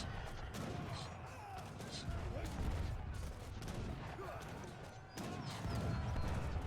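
Age of Empires III hand mortars pound against walls in a dense, distant battle, with repeated muffled blasts and crashes layered over a busy rumble of combat.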